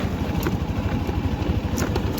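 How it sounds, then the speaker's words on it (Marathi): Steady engine drone of heavy road traffic around a commuter in Pune during the Yevlewadi village fair, with low idling rumble and passing vehicles blending into a continuous close roar, a few brief higher horn-like accents. "कामावरती चाललोय आणि फुल ट्रॅफिक आहे"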